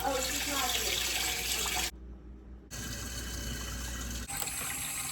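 Water running and gushing into a sink during a plumbing repair on galvanized pipes, loud and close, cutting out briefly for under a second before resuming, with a slight dip near the end.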